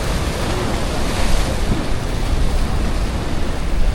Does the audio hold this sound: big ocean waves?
yes